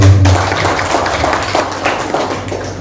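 An audience at a formal government event in Buleleng claps for the regional secretary, a steady wash of many hands close by that opens loudly and then continues at an even level.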